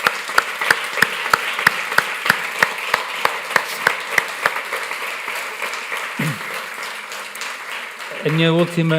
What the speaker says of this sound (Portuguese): eu ia pedir um enorme salva de palmas para estes técnicos